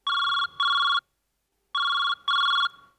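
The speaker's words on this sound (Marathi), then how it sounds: "सर एक फोन आहे" A telephone rings loud and near in two bursts of double electronic trills, each pair separated by a short gap, with a full second of silence between the bursts and no talk over it.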